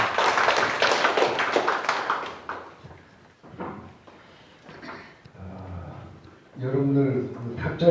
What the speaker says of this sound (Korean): 박수로 좌장을 모셔드리기 바랍니다.